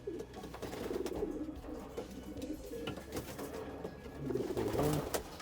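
Breeding pigeons coo inside a loft compartment. Low, throaty calls repeat over a few seconds at close range, with some faint rustling.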